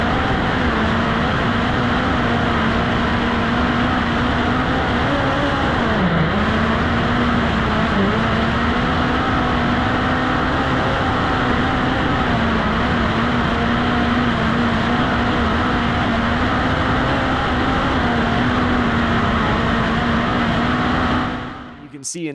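A dirt midget race car in iRacing holds full throttle, a loud, steady engine drone that barely wavers for over twenty seconds before cutting off abruptly at the end.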